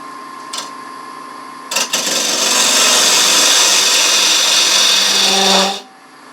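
A wood lathe cutting a tenon into a gnarly piece of dogwood: a brief touch, then a sustained, loud scraping hiss of the tool on the spinning wood for about four seconds before it stops abruptly.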